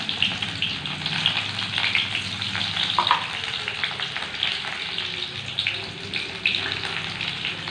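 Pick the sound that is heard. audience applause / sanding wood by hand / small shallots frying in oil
small shallots frying in oil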